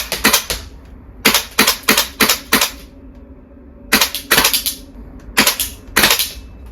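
A VFC MP5 gas blowback airsoft gun fires on semi-auto in cold weather, its sharp mechanical clacks coming in tight bursts of three to five shots with short pauses between groups, loud and close over quiet background hiss.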